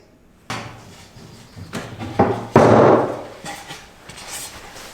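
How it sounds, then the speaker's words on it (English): A screwdriver forces a stuck wooden plug out of a drilled entrance hole in a wooden woodworking project, making several close knocks, scrapes and thumps that build to a louder, grinding push near the middle. "I'm going to have to get a screwdriver or something through that hole and push it out"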